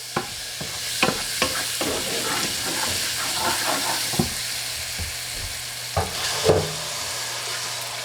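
Tomatoes go into a hot pot with shrimp and hit the oil with a loud, steady sizzle and hiss. Repeated sharp taps and scrapes of a spoon stirring run through it, close up.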